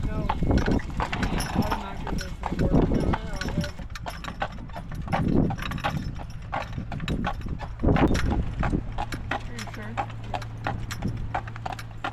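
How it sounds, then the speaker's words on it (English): A horse pulling a carriage gives steady rhythmic clip-clopping of hooves on the road, with occasional louder thumps. Voices talk over it. "How does it feel to drive a horse-drawn carriage?"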